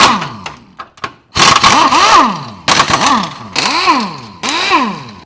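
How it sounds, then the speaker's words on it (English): A BMW being repaired with an impact gun fitted with a 16 mm socket, removing control arm bushing bolts. It gives several loud, close whirring bursts with rising and falling pitch, separated by short pauses. "while I'm down here with my impact gun, I'm gonna take a 16 and rip these control arm bushing bolts out"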